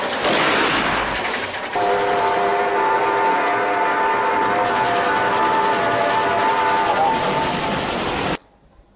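A steam train running across the steppe, carrying a Budyonny Red Army unit, a loud steady rumble of wheels and carriages with sustained whistle-like tones, cutting off abruptly near the end.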